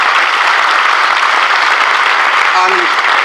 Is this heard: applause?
yes